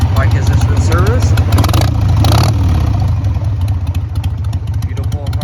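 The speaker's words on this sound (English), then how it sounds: "Beautiful Harley V-twin rumble." A 2000 Harley-Davidson Sportster 1200 V-twin idles with a loud, steady, throbbing low rumble right up close, holding an even pulse throughout with a few faint rattles riding on top.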